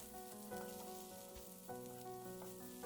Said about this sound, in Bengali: এখন একই ফ্রাই প্যানে দিয়ে দিচ্ছি কেটে রাখা করলা।